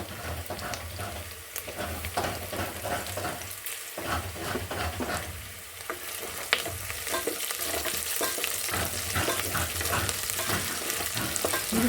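Onions fry in hot oil in a pan while making hitakida bele biryani, a continuous crackling sizzle broken by repeated scraping and stirring strokes, close and moderately loud, with no talking.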